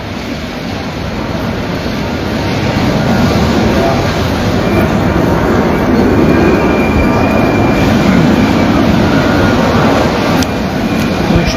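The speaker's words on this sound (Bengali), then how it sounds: "এটা মেট্রো।" A metro train runs through an underground station in Naples, Italy, a loud continuous rumble of rolling wheels and carriages with faint squeals and clicks, sustained for the whole stretch.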